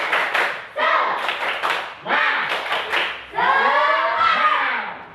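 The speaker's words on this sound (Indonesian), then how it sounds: "Sebelum bernyanyi, tepuk semangat dulu. Tepuk semangat." A primary school class does a rhythmic spirit clap in a classroom, with bursts of patterned hand claps and slaps in short sets as children chant loudly together between the beats.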